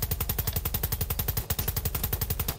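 Rapid automatic gunfire from a video game weapon in a Siren Head SCP game, a steady fast stream of close, loud shots with only a brief pause midway.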